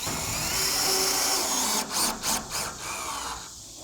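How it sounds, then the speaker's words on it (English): A power drill drives a screw into a pre-existing hole, giving a steady close whine that breaks into a few short bursts before stopping. "final step is just screwing this in"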